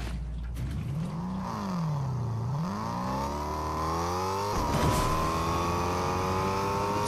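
A car drives in the video game Fortnite, its engine whining as it revs up and down and then climbs steadily as it accelerates, loud and close, with no talk over it.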